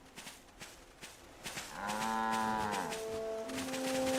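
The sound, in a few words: person imitating cow mooing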